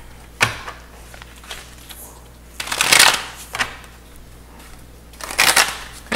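Tarot cards being shuffled in several quick riffling bursts, the loudest around the middle and near the end, with quieter handling sounds between and a low steady hum underneath.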